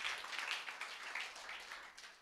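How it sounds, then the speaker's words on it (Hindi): Applause from a church congregation for John, a steady wash of many hands clapping at moderate level throughout, with a sharp rise at the very end. "तालियां बजाए जोरदार जॉन के लिए।"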